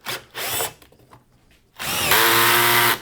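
A power drill backs out a screw during a small wooden table build with a pocket hole jig, giving short whirring bursts followed by a longer, louder sustained spin, close and clear.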